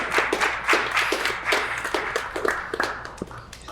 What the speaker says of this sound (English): Let's give it up for her, guys.